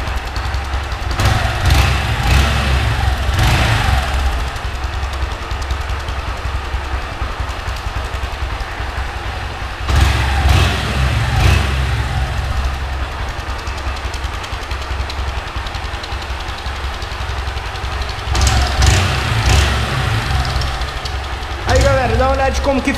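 A motorcycle with a washer placed in its exhaust idles loud and close and revs in three separate bursts, giving a whistling note at the end of the tailpipe.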